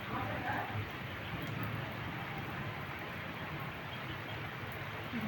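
Steady rain falls during the monsoon, a continuous soft hiss of drops on surfaces, even and moderately faint throughout.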